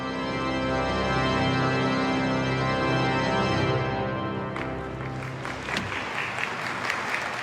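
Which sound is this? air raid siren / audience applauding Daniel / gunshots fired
audience applauding Daniel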